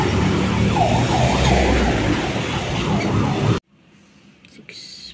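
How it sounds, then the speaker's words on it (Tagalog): An ambulance siren wails through loud, dense crowd and street noise at a community celebration in Makati, Philippines, cutting off abruptly after about three and a half seconds and leaving quieter background sounds. "May ambulansya."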